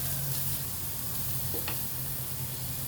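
Ginger, garlic and green chilli frying in a pan, giving a dense, even sizzle that holds steady throughout, with one brief scrape of a utensil and no voices.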